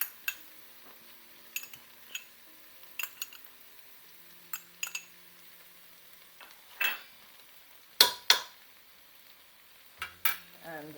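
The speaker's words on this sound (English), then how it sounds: "now the mince and the onions and the vegetable have been frying for the last 5 minutes" Mince, onions and vegetables fry quietly in a pan while a utensil stirs them, with scattered scraping clinks and taps against the pan, a few sharper knocks near the end, and a soft sizzle underneath.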